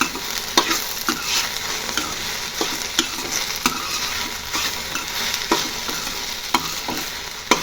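Okra (vendakkai) fries with chili for a poriyal, loud and close, a bright constant sizzle broken by repeated sharp scrapes and clacks of a spoon stirring against the pan.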